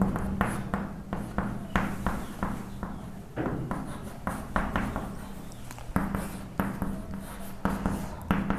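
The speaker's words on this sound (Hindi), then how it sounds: "6 को हम एक बार पूरा लिख दे रहे हैं" Trigonometry formulas written on a board with quick, repeated scratchy strokes and taps in an uneven rhythm, close and clear with no talking.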